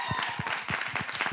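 Several people in a game show audience clap in a brief, uneven burst of applause, close and moderately loud, lasting just over a second.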